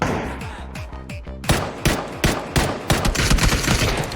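Gunfire in the video game PUBG: a few spaced shots, then rapid bursts of sharp cracks firing repeatedly and close up, loud and steady to the end.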